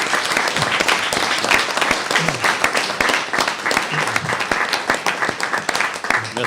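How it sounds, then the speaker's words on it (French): Applause fills a municipal council meeting room, a dense, steady wash of many hands clapping together at close range for several seconds without a break. "on pourrait peut-être procéder à une main d'applaudissement"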